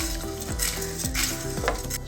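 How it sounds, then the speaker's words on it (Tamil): Red chillies and coriander seeds dry roast in a pan, with a steady faint crackle and the repeated scrape and clink of stirring against the metal. "மிளகாயை போட்டு கொஞ்சம் நல்லா தனியாக வறுத்துக்கோங்க"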